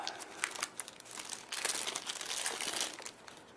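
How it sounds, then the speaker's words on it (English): Cardboard and plastic packaging of a Samsung Intensity 2 phone box being opened, with continuous crinkling and rustling close to the microphone, bursts of crackle growing denser and louder midway. "So here's the Intensity 2 box. You can see small packaging. Open it up."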